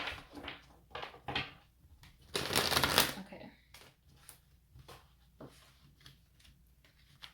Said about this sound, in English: Man, these cards are stiff, bro.